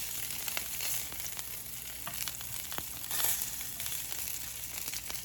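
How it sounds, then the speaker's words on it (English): Salmon and shrimp sear in a hot pan for a stir fry, giving a steady close sizzle with soft crackling pops throughout and no talking. "just flip it over on that side to give it a quick sear"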